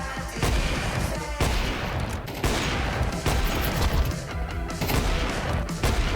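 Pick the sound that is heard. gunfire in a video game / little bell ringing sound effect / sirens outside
gunfire in a video game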